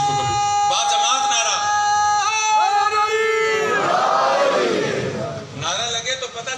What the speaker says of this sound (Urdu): نعرہ لگے تو پتہ چلے علی والوں نے نعرہ لگایا ہے